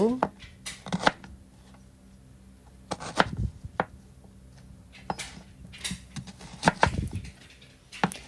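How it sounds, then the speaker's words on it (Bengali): A knife chopping red and white onions on a board, clusters of quick crisp cuts separated by pauses, moderately close, with a voice speaking between the strokes. "এখন আমি এখানে লাল পেঁয়াজ আর সাদা পেঁয়াজ নিয়েছি এগুলোকেও কেটে নিব"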